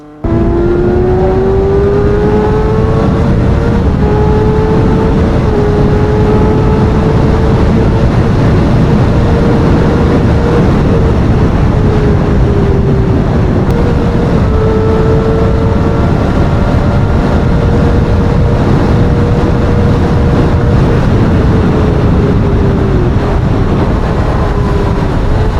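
A Kawasaki Ninja 1000 motorcycle at high speed on an expressway, a loud sustained engine drone with shifting pitch under a heavy rush of wind, constant throughout with no talking.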